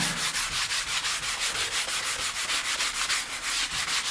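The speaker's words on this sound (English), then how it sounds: "It's still just a sanding sponge, but it reaches into the profiles a little better" Sanding a wood edge profile with a sanding sponge, a loud, steady back-and-forth rubbing rhythm of even strokes repeating several times a second, close by and alone.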